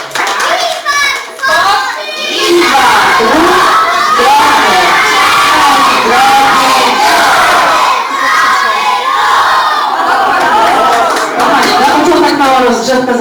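A crowd of preschool children at a kindergarten sports day yells a cheer chant even louder, a sustained roar of young voices with excited shouts throughout.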